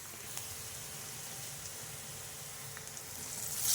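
Turmeric and an onion-chili tempering fry in oil with a soft, even hiss and sizzle, faint and steady with a few small pops, swelling a little at the end.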